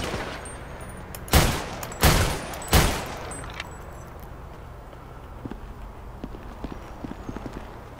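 Three loud, sharp gunshots from a video game ring out about two-thirds of a second apart, followed by quieter scattered clicks and faint background noise.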